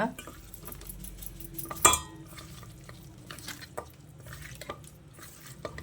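Mutton being hand-mixed with ginger-garlic paste, lemon and mutton masala for bachelor-style biryani: soft squelching and stirring with light utensil clinks, one sharper knock near the start, close and quiet, no talk.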